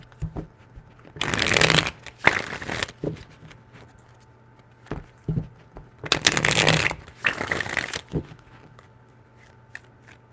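Tarot cards are shuffled in two separate bursts, each a quick pair of crisp riffling rushes, close and clear, with quiet pauses and a few soft taps between them.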